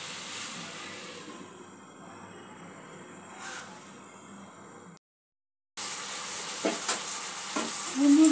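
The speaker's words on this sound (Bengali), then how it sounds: "আলুটা আর পেঁয়াজ কলিটা আমি ভাজা করে নিই" Potatoes and onion stalks frying in a pan give a low, steady sizzle that grows louder after a short silence, with a few stirring knocks near the end; no speech.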